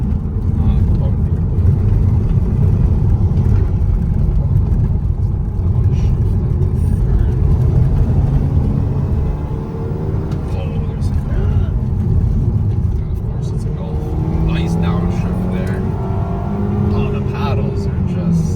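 A diesel Mercedes car drives hard along a village road in Serbia during a rally run, its engine a steady loud drone with rising gear pulls near the end, heard up close from inside.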